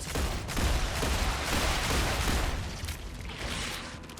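Gunfire in the sci-fi video game StarRupture, a dense continuous barrage of rapid shots and booms with no talking.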